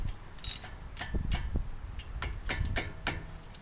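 A ratchet tightening a 17 mm brake caliper bolt on an Acura MDX front disc brake, giving a quick run of close, crisp clicks in short bursts.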